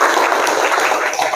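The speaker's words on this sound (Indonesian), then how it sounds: "silakan tepuk tangan" Classroom applause for a correct answer, a short dense burst of clapping at even loudness lasting just over a second.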